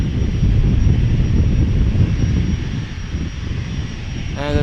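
A Vistajet business jet and a Boeing 737 at Amsterdam Schiphol, with a loud, steady jet engine roar that eases slightly toward the end, a brief voice cutting in at the close.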